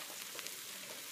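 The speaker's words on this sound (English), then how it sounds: "There's sizzle on that." Tater tots frying on a 36-inch flat-top griddle alongside bacon fat, giving a steady, moderately quiet sizzle with faint crackles and no talk.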